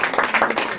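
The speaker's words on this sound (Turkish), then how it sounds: "Gerçek, alkışlıyorum." Brief burst of clapping from a small group during a family-visit comedy show, a quick flurry of hand claps lasting under a second.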